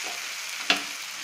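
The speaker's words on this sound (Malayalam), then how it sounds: "നമുക്ക് നന്നായിട്ടൊന്ന് വഴറ്റിയെടുക്കാം." Chilli, turmeric and coriander powder masala sautés in a pan under a soft, even hiss, with a single sharp scrape of the spoon midway; close, with no talking.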